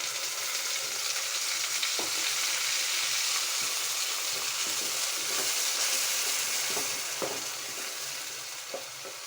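Ground tomato paste fries in hot oil in a pan, producing a loud, continuous, close sizzle with occasional stirring clicks and pops, no talking.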